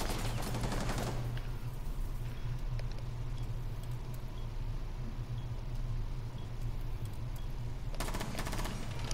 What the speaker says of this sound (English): Who was shooting next to me?